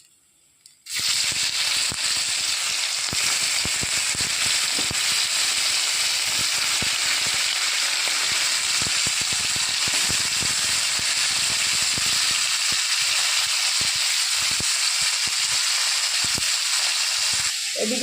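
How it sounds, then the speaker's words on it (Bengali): Bhola fish frying in hot oil, giving a loud, steady, crackling sizzle that runs unbroken for the whole stretch, close by and with no talking. "ওই তেলেই বাদ বাকি যে মাছগুলো ভেজে নেব।"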